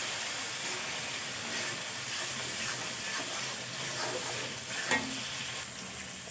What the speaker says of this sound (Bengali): মশলাটা আমি আরেকটু ভালো করে কষে নেব।